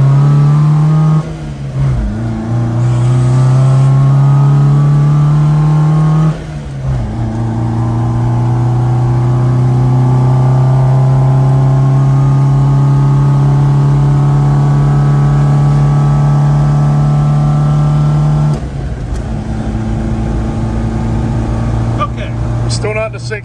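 A carbureted car engine revs hard and holds under load through long acceleration pulls, with brief dips between gear changes, loud and close throughout.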